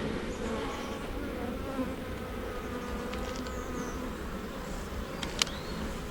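Honey bees from a brood box swarm in a steady, dense buzz at close range during a hive inspection, with a few brief sharper tones of individual bees passing near, no voices.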